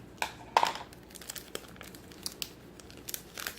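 Scissors cutting into a crafting swap package of cards and envelopes, a string of close, quiet crinkling snips and paper rustles in uneven bursts, with no talking.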